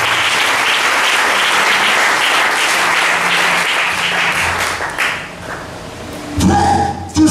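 A church congregation claps loudly and steadily for several seconds. The applause fades out toward the end, followed by a few thumps and a louder burst of noise.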